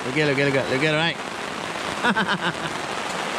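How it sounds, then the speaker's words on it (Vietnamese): Heavy rain drums steadily on tents at a lakeside campsite at Núi Ngang lake, with loud close patter throughout while people talk briefly over it. "hiện tại trời tiếp tục mưa to hơn nữa"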